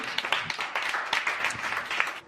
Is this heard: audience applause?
yes